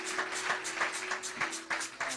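A church congregation applauds the Lord with rhythmic clapping, roughly three claps a second in a steady beat, moderately loud over a faint sustained hum.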